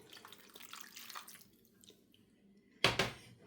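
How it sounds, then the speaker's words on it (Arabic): A cup of water poured into a baking tray of chicken drumsticks and potatoes, soft splashing and trickling followed by a brief louder splash near the end. "انا عندي هون كاسة من المي، رح نضيف هلا الكاسة من المي."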